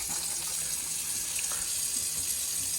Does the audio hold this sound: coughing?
no